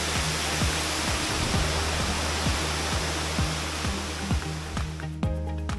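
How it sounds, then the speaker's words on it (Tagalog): Kaparkan Falls in Tineg, Abra pours in a dense, constant roar of water, loud and close, while a regular low mechanical thumping repeats beneath it and then cuts out near the end. "Ang Kaparkan Falls sa Tineg Abra ay isang natural na anyo ng tubig na likha ng proseso ng erosion at pag-agos ng tubig sa kalikasan"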